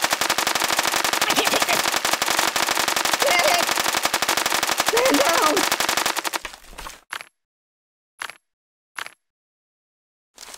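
Rapid, loud gunfire from a shooting-range weapon in the video game Kick the Buddy, a dense continuous burst for about six seconds that cuts off, followed by a few isolated short shots in near silence.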